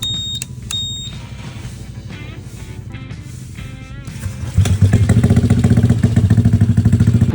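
A Honda Vario scooter engine runs on a dyno: a few sharp electronic beeps come first, then the engine cuts in loud and close, holding a steady, buzzing drone.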